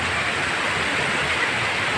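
Water splashes and rushes at a dam, a dense, steady hiss of spray heard up close without a break.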